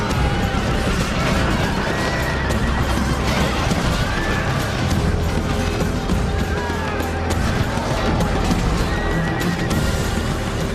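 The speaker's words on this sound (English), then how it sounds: "The second unit of Roman horse arrives, but Aneroestes and his Gauls are ready" Roman cavalry horses in a battle video game, loud neighing and whinnying over a dense, continuous clatter of galloping hooves and clashing combat noise, with no pauses throughout.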